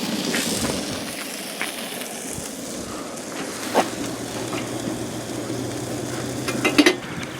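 Sausage and potatoes O'Brien fry on a camp stove at a Lake Perris group campsite, a soft continuous sizzle with occasional light scrapes and clinks of a utensil in the pan, fairly quiet with no talk.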